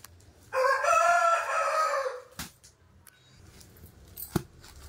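A rooster crows loudly close by, one long strained call lasting about two seconds, followed by a few sharp clicks and quieter background noise.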